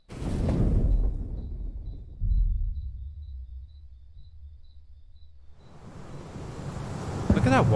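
Ocean waves wash and surge in the Final Fantasy XIV Dawntrail game trailer, a broad rushing swell that fades to a low rumble before building again, with a faint high tone and a brief voice near the end.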